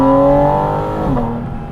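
A 4-liter engine in a 2025 Porsche Spyder RS Weissach pulls hard in manual mode, revving up close and loud, then dipping briefly at a gear change before climbing again.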